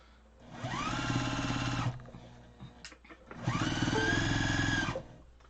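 Sewing machine stitching quilt blocks in two long close bursts of whirring motor and needle chatter, separated by a short pause with small handling clicks.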